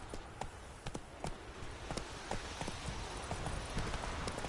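Roach, a horse in The Witcher video game, trots with steady, repeated hoof clip-clops against a constant background ambience, a rhythmic series of sharp strikes without any voice.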